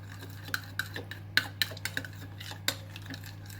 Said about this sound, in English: Now just mix that well.